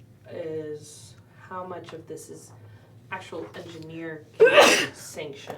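A single sharp sneeze bursts out amid a conversation among tabletop role-playing players, loud and close, following several lines of ordinary talk.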